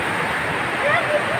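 Rainwater runs off the fields in a steady broadband rush during a heavy downpour, loud and continuous, with a few faint tonal sounds partway through.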